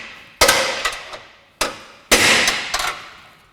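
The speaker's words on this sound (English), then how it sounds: "something like an air hammer can really help." A pneumatic air hammer fires in short, sharp metallic bursts while replacing front lower suspension wishbones on a Land Rover Discovery, four loud blows with brief ringing decay between them, close by and with no talking.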